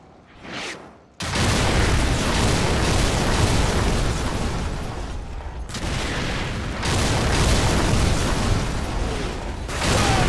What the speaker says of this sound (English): Warhammer, fire mission, danger close. Enemy armor and infantry, 100 meters to the southwest of our location.